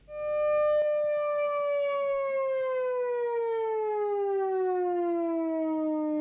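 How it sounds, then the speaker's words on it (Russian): A civil defense warning siren sounds during a test of the alert system, starting abruptly with a steady tone that slowly slides down in pitch, loud and wailing with no talk. "Сирены, сопровождающие информацию о тестировании, сегодня работали в разных муниципалитетах"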